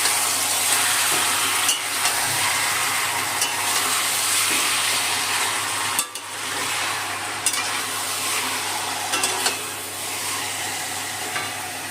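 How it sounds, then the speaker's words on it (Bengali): Chicken pieces sautéing with spices in a hot pan for biryani: loud, continuous close-up sizzling and frying, broken by occasional scrapes and clacks of a stirring spoon, with no voices. "মাংসটা দিয়ে দিলাম মাংসটা মশলা একটু কষিয়ে নেবে"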